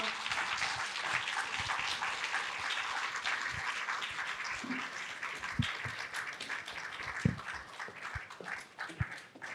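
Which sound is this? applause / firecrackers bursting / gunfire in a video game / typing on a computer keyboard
applause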